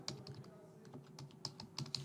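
A computer keyboard is tapped while a customer's WhatsApp number is entered in an online store checkout, giving several light, close clicks in an uneven rhythm against a quiet background.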